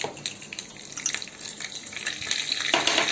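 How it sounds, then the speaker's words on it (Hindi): Mustard seeds crackle and spatter in hot oil in a home kitchen pan, giving a steady stream of fine, sharp pops and sizzles, with no voices. "देखिए राई तड़कने लगी है।"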